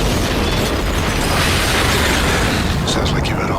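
A loud, dense explosion blast from a movie trailer, a sustained roaring burst filling the whole moment with broadband rumble and debris, fading slightly at the end.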